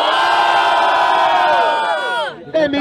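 A large crowd at a freestyle rap battle roars with cheering and shouting, loud and sustained, then cuts off abruptly into a few scattered voices.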